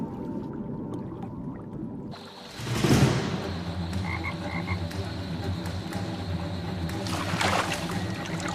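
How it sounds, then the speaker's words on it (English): A frog croaks in a pond habitat where largemouth bass hunt, the croaks coming amid steady watery background noise with a louder splashy burst near the start and soft repeated calls later. "A frog tries to escape."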